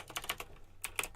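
Rapid bursts of keyboard tapping on an iPhone 5C while searching Google, several quick clusters of taps with a short pause between them, close and fairly quiet, no talking.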